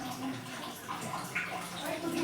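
Water from a tap runs into a bath as a child splashes and plays in it, a continuous rushing wash with irregular splashy bursts and voices in the room.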